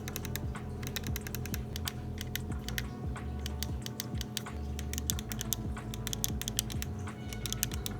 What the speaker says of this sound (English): On the back here, we have stacked shoulder buttons with L1 and R1 bumpers and L2 and R2 triggers. These bumpers are quite loud and clicky.